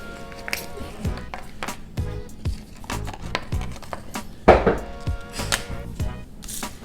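A cheap $1 Dollar Tree kitchen knife chops on a cutting board, giving a series of sharp, uneven thuds and knocks close by, with a voice talking intermittently over the cutting.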